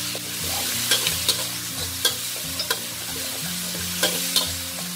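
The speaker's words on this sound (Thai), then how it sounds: "ใส่พริกเครื่องแกงที่เราตำไว้แล้วนะคะลงไปเลยเราจะผัดพริกของเรา" Curry chili paste, pounded by hand, stir-frying in hot oil in a pan on a gas flame: a steady dense sizzle with scraping spatula strokes and a few sharp clinks, close and continuous, with no talk.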